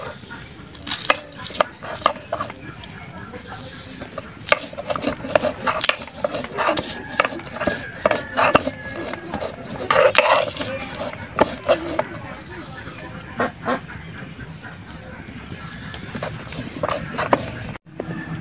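Dried chilies crushed by hand on a grinding stone in a village kitchen: a steady series of scraping, knocking strokes at close range, with no voices.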